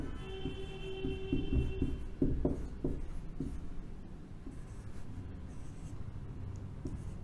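Scratchy strokes of a pen or marker as Java if-statement syntax is written out by hand, with short bursts of writing and pauses, close and fairly quiet with no talk.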